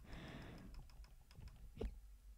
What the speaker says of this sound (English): Sorry if you hear my clicking